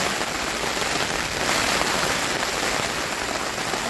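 Steady rain drums on a tent at a campsite, a dense, close, continuous patter that fills the whole stretch without pause, with no talk.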